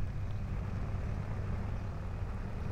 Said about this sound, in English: engine started.